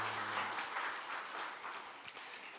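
A church congregation applauds together in a steady, continuous patter of clapping that fills the whole stretch at a moderate distance, with no voices on top.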